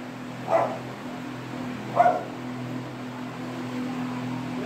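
A pet dog gives two short barks at a family birthday celebration indoors, spaced about a second and a half apart and moderately near, over a steady low hum with no talking.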